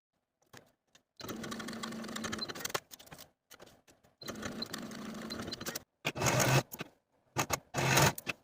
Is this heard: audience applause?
no